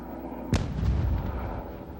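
An acid jar is detonated in a controlled blast at a police bomb range. A single sharp distant boom strikes just past half a second, then a rumbling tail fades over the next second.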